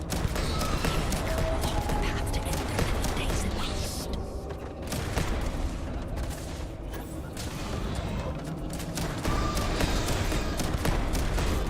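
Gunfire in the Starfield video game: dense, continuous bursts of shots with mechanical clatter, loud and sustained throughout, with someone talking in Russian over parts of it.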